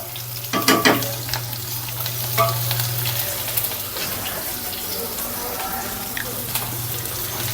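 Bottle gourd dal with onion and cumin sizzles and fries in hot oil while being stirred, a steady close crackle throughout with brief clinks and a low hum underneath.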